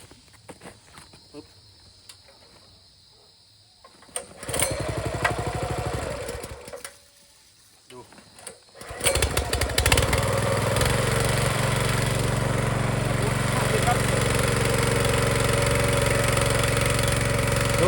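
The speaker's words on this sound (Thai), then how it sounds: "มาดูความแรงกันไปสตาร์ทเครื่อง" Small engine on a Tiger-brand pesticide sprayer: a few pull-start attempts briefly catch and sputter, then the motor fires up and runs steadily at a loud, constant drone.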